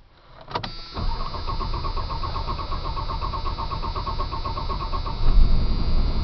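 A carbureted engine in a 1987 Dodge Dakota cold-starts after sitting for months. The starter cranks briefly, then the engine catches and settles into a steady, moderately loud idle that grows a little rougher near the end.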